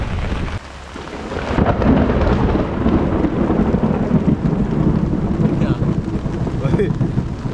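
Heavy tropical downpour on Munroe Island, with rumbling thunder rolling over a dense, steady hiss of rain that stays loud and close throughout.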